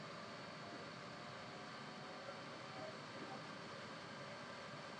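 A test motor driven by a free variable frequency drive runs steadily at about 2200 RPM, giving a constant broadband hum and whine that holds even throughout, close by with no breaks.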